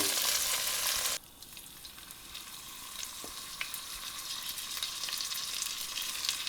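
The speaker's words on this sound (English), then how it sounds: "take out this perfectly caramelized tenderloin pieces and get to browning batch number 2" Beef tenderloin pieces sear in a hot pan while being browned in batches for a stout beer stew, giving a continuous, close frying sizzle that is loudest for the first second, then settles into a steady crackling hiss.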